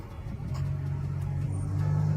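Cars turning and driving by on a public road, a steady low engine rumble that swells slightly as vehicles pass close, with no talk.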